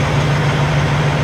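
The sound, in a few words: diesel semi truck idling nearby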